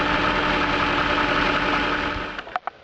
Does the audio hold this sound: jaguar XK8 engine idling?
yes